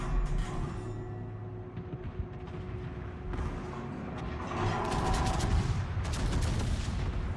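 Warship guns firing at the Warspite in World of Warships Legends: a continuous bed of mechanical engine rumble with scattered distant gunfire thuds, swelling into a louder burst of volleys near the end.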